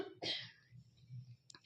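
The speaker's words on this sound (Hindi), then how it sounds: "मुझे खांसी भी बहुत ज़्यादा आ रहा है" A single sharp, close cough bursts out in a quiet home during Dev Deepawali in Varanasi, followed by faint low background sound and a small breathy noise near the end.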